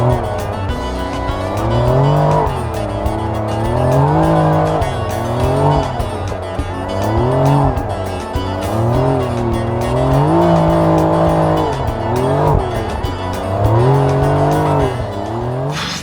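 A Porsche 911 Dakar engine revs and drones continuously, pitch rising and falling as it slides on Sahara desert sand, with tires scrabbling loudly underneath, close and sustained throughout.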